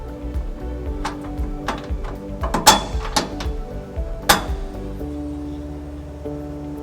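Carriage bolts and plates being fitted into the frame of a 2001 Chevrolet Silverado 1500 for a U-Haul trailer hitch give a series of sharp metallic clinks and knocks, spaced irregularly over a low steady hum.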